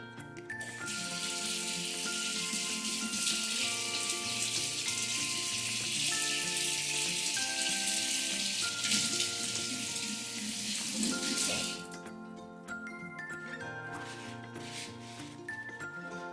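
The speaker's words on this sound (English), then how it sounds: "Always wash your hands before cooking." Hands being washed under a running tap before cooking, a steady broadband rush of water pouring and splashing for about twelve seconds, then the flow stops and quiet background with faint music tones remains.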